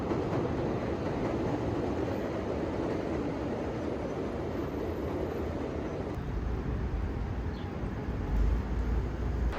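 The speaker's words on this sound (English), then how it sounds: "You can hear the train rolling overhead every few minutes" An elevated train rumbles steadily directly overhead on the Chicago L tracks, heard from inside a record store below, a low continuous roll of wheels on rails that fills the whole stretch, muffled and moderately loud.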